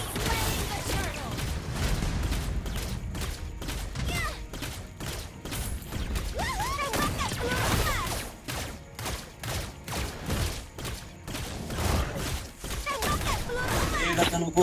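Rapid bursts of game gunfire in Mobile Legends, dense repeated shots and impacts with effect sounds, continuous and loud throughout, with voices talking over the action.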